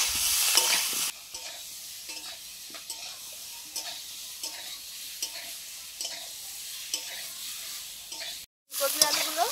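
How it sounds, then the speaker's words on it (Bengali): Cauliflower and potato pieces sizzling loudly in a pan, with a burst of stronger frying at the start and then a steady hiss broken by stirring scrapes and a brief cut near the end. "ফুলকপি আলুগুলো ভেজে নিয়েছি, নামিয়ে নিচ্ছি"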